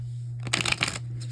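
Tarot cards shuffle briefly in a short, soft riffle of papery flicks, close and quiet.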